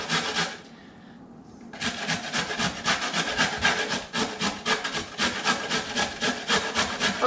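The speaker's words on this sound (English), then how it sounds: "I'm going to get this all grated" Food is grated by hand on a grater for a tuna salad, a rapid rhythmic rasping of quick repeated strokes, close and loud after a short pause near the start, with no talking.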